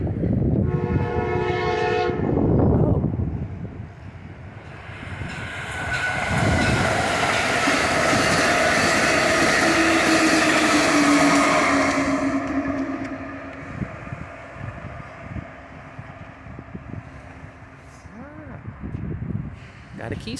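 An Amtrak Keystone passenger train passes at Thorndale: a horn blast, then a swelling rumble and rail noise as it rolls by close and loud, fading afterward, with someone talking over it.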